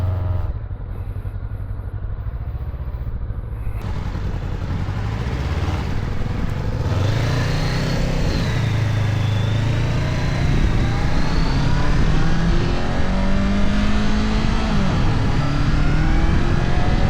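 A Honda NX500 adventure motorcycle's engine hums steadily and climbs through several rising revs on a ride. Wind rush grows under the engine note, which stays close and loud with no speech.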